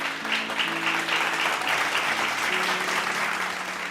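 Bible study audience clapping together in a steady, dense burst of applause, close and even, with a few faint sustained tones underneath and no talk.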